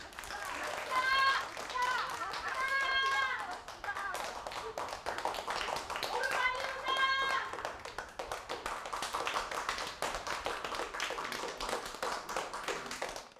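Applause for a speaker at a public address in Korea comes as a crowd's scattered, sustained clapping, and voices speak over it.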